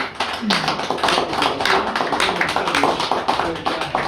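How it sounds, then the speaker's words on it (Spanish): Audience applause at a tribute ceremony, a continuous patter of many hands clapping at moderate loudness for the whole stretch, with faint voices mixed in. "Recibamos a Héctor Ventura con fuertes aplausos"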